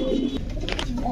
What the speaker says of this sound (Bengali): ইসমাইল ভাইয়ের কবুতরগুলো আজকে দেখছেন